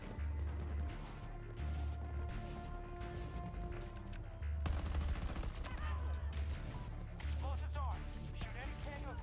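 M5A3 rifle gunfire in the shooter game Battlefield 2042 comes in repeated rapid bursts over a loud game soundscape of music and effects, with a voice talking over it.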